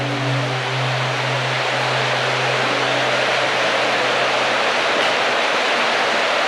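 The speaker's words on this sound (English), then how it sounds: "It's definitely echoey." Steady, broadband rushing water fills an echoing cave behind a waterfall, loud and continuous with a low resonant hum beneath and no pauses.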